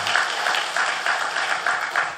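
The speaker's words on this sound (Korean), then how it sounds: "우리 격려의 박수를 한번" A church congregation applauds in encouragement after a praise team's worship song, a steady wash of many hands clapping at moderate loudness, with faint pulsing swells and no voices over it.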